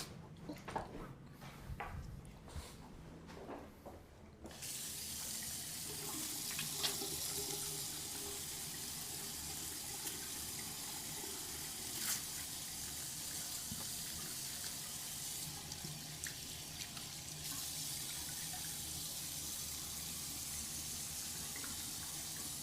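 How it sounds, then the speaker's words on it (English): Tap water runs steadily into a sink while hands are washed, a continuous close hiss lasting about eighteen seconds with small splashes, after some handling noise at the start. "let me wash my hands real quick."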